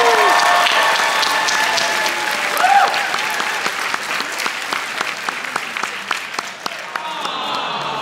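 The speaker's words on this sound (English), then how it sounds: "Can I get a warm round of applause for Ray?" Warm audience applause at a dance competition, a full crowd clapping steadily for several seconds, with cheers and voices mixed in before it gradually thins out.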